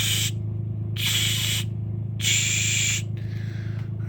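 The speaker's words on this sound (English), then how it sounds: "I hosed some spray paint on it." Three hissing bursts of cheap Rust-Oleum spray paint onto a spinning belt, each about half a second, over a constant low mechanical hum from the running machine.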